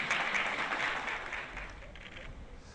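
Applause and cheers greet a departing president as he leaves the Ivorian chancellery, a dense crowd clapping that gradually thins and fades toward the end.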